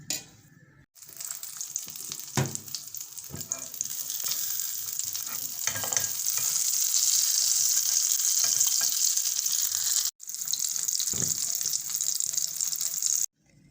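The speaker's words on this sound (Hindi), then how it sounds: "ये कबाब फ्राई हो चुके हैं।" Chana dal kebabs fry in hot oil with a loud, continuous sizzle that swells and holds, broken by a few brief gaps and occasional clatters, and no voices are heard.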